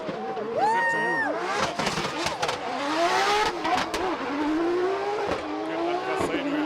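A drift car with a fully built 1200-horsepower 2JZ engine revs hard and repeatedly, its loud rising and falling engine pitch close by amid crowd noise and a commentator's voice.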